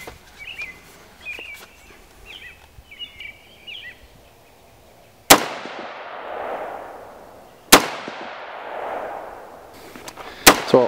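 SIG M400 rifle firing .223 75 grain rounds outdoors, three sharp loud gunshots spaced a few seconds apart, each with a long rolling echo, after birds chirping quietly in the background.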